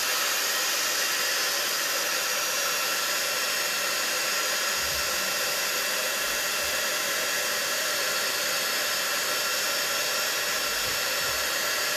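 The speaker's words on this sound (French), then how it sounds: "avec le hot gun, vous allez venir chauffer" A heat gun blows continuously at close range while melting embossing powder, a loud, even, hissing roar like a hair dryer that holds steady throughout with no talk.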